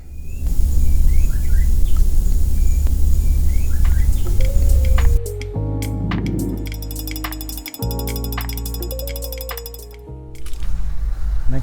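In an outdoor spot in Gangshan, Kaohsiung, Taiwan, small birds chirp over a steady low rumble, then a run of bright metallic clinking and tonal sounds takes over partway through.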